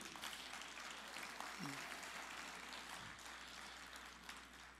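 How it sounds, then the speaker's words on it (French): A graduation ceremony audience applauds pianist Claire Duguay, the clapping soft and distant across a large hall, with a low steady hum underneath and a brief murmur partway through. "Une bonne main d'applaudissements pour notre pianiste Claire Duguay."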